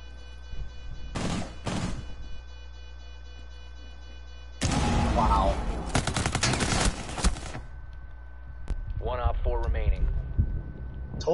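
Bursts of gunfire from a first-person shooter video game: a couple of short sharp shots early, then a dense loud volley of rapid fire in the middle, with people talking excitedly over parts of it.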